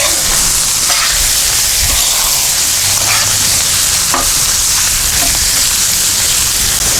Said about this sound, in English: Well, that sauce bubbled up quick.